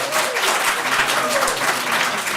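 An audience applauds at a city commission meeting, steady dense clapping throughout the short stretch, moderately loud and without talk over it.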